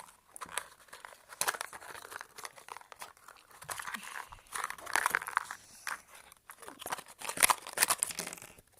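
A box is opened by hand, its packaging tearing and crinkling in irregular close bursts of rustling and ripping, fairly quiet overall.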